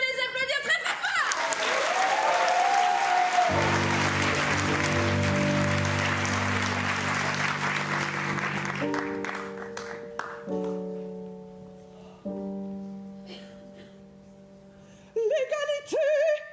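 A crowd at an improv theatre festival claps steadily and loudly, the applause filling the whole stretch while music plays underneath, fading a little toward the end.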